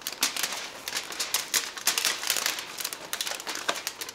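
Aluminum foil crinkles and crackles up close in dense, irregular bursts as it is handled and smoothed over a model plane's trailing edge, with no talk.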